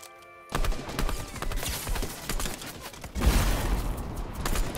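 Railgun shots in a video game, heard as a continuous barrage of loud, crackling gunfire that starts abruptly after a brief quiet moment and swells again near the end.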